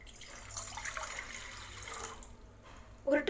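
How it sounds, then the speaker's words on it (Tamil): Water pours into a pan for masala tea, a steady close splashing stream that fades toward the end, followed by a brief clink of the vessel. "1 டம்ளர் தண்ணி ஊற்றிக்கங்க."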